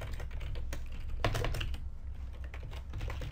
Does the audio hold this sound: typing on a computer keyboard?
yes